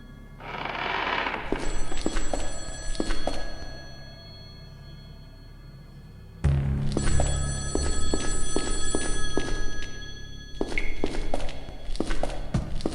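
Telephone ringing in a room in the Phone Escape: Hopeless video game, an electronic bell ring in two long bursts with a pause between, over footsteps and thumping game sounds at moderate loudness.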